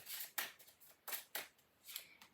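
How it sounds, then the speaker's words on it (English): Quiet, close riffling bursts of a deck of tarot cards being shuffled, several quick flutters in an uneven rhythm. "One more shuffle"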